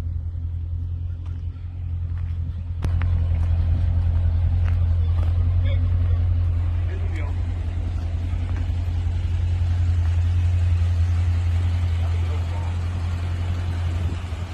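A Dodge Challenger 392 on 24-inch mud tires idles with a deep, steady, loud rumble that swells after a few seconds and holds, with faint voices in the background.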